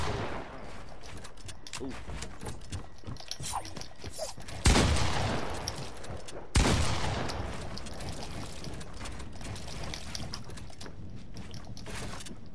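Gunfire in Fortnite rings out as scattered cracks and bursts, with two loud, sharp shots standing out amid continuous game noise and a brief spoken exclamation.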